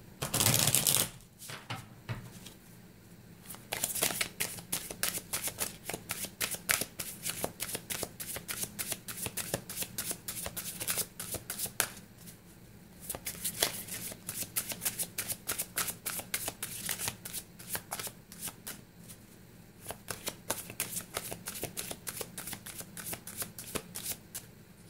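Chakra intuition oracle cards being shuffled by hand, a long run of soft rapid riffling and flicking bursts broken by brief pauses, close and quiet.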